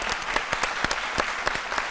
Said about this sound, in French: On va applaudir pour la RTI